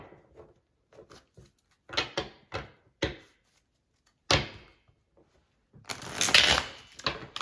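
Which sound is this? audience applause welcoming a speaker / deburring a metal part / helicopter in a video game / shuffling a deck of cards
shuffling a deck of cards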